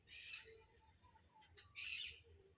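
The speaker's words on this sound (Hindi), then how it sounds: "देखिए तोता आवाज़ दे रहा है।" A pet parrot at home near a vegetable garden gives a few faint, harsh squawking calls, with two bursts separated by quieter chirps in a calm setting.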